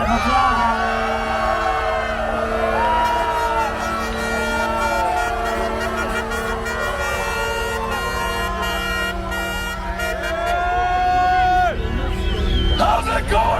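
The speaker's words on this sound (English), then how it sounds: "please give Patrick King a warm round of applause" Crowd at an outdoor Ottawa trucker convoy rally cheering amid a loud din of truck horns, air horns and tooting vehicles blaring continuously and overlapping, with voices mixed through the noise.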